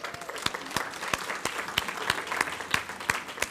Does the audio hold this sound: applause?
yes